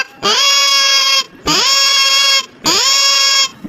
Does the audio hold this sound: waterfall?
no